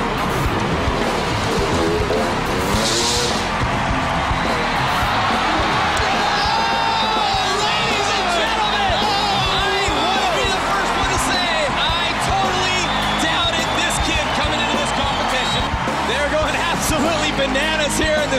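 Huge arena crowd roaring at the X Games dirt event in the Staples Center, a dense continuous wall of cheering with scattered shouts and a commentator's voice underneath.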